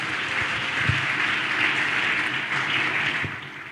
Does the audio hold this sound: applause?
yes